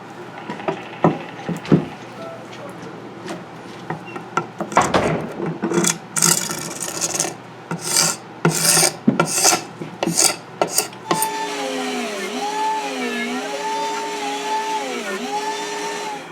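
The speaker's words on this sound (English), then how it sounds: "So let's pull the rest and scrape the back." A wooden neck for a classic set-neck guitar has its back scraped in a quick run of rasping strokes, close and fairly loud, followed by a steady whirring machine tone.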